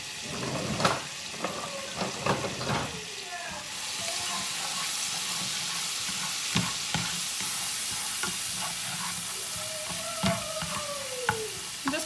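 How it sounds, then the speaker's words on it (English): Garlic cloves sauté in grass-fed butter in a pan, giving a steady close sizzle with scattered stirring clicks and scrapes throughout, no voices. "I'm just gonna saute that garlic up just a little bit."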